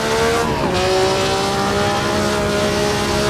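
A 1960s Formula One car in the racing game Assetto Corsa, on slick tyres, accelerates hard down a seaside run toward a tunnel, its loud engine note holding steady and briefly dipping before climbing again, with faint tyre squeal.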